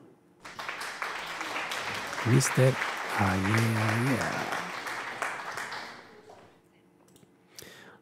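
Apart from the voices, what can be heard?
applause sound effect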